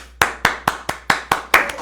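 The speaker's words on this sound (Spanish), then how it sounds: "recibamos con un fuerte aplauso" Seven sharp hand claps at a steady, fairly quick pace, close and moderately loud, with no other sound between them, welcoming a speaker to a talk.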